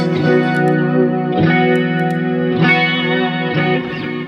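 A clean electric guitar rings out sustained chords with a wide, shimmering tri-stereo chorus effect, restruck every second or so with no voices.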